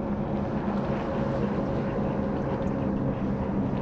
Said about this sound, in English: We've got these jet skis that are going to come.